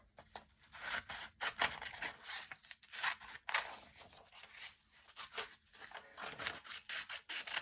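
Scissors cut a paper sticker out of a book page, making quiet, close snips and rustling paper scrapes in irregular short bursts with brief gaps between them.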